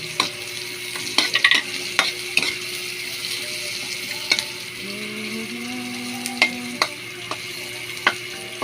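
Onions being sautéed in oil left over from frying fish, a soft continuous sizzle broken by sharp clinks and scrapes as a utensil stirs the pan, with no one talking.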